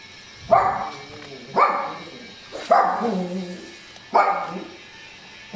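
Pet dog barking indoors, five sharp, loud barks spaced about a second apart, alone with no talk.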